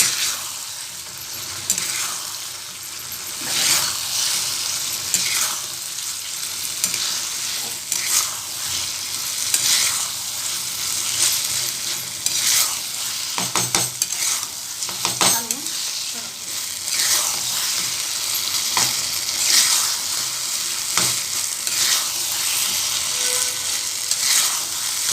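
Potatoes fry in oil over a full gas flame, giving a loud, constant sizzle broken by repeated scraping strokes of a spoon in the pan, heard up close and without speech.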